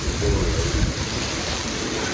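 Heavy rain pours steadily through a thunderstorm in Fort Worth, Texas, under tornado and thunderstorm warnings, with a dense, close, continuous wash and low rumbling underneath.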